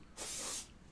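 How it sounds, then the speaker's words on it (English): Aerosol can sprayed onto a chair, one steady close hiss lasting about half a second that starts and stops abruptly, with quiet room tone before and after. "I'm spraying this chair."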